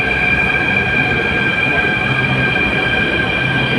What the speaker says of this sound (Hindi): ये देखिए मेट्रो आ ही चुकी है